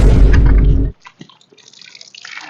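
Water running from a tap comes out as a loud, close gush for just under a second, then stops abruptly, leaving faint scattered drips and a light trickle.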